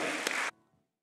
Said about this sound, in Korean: 은혜 주신 하나님께 영광의 박수